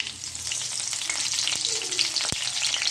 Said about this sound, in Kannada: ಒಣಮೆಣಸು ಚೆನ್ನಾಗಿ ಫ್ರೈ ಮಾಡೋಣ